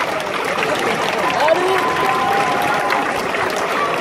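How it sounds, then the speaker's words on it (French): A crowd at a celebration in Reims applauds for a team director, a steady wash of clapping with cheering voices mixed in throughout. "vous allez pouvoir applaudir"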